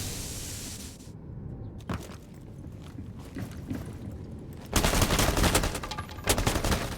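Gunfire at a window during a competitive first-person shooter match, with rapid bursts and single loud shots over busy game noise. A heavy sustained volley breaks out near the end, and no one speaks.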